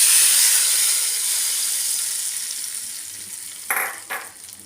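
A hot tempering of curry leaves and garlic poured into bottle gourd dal makes a loud, close hiss of sizzling that fades steadily, then two short clinks or stirs near the end.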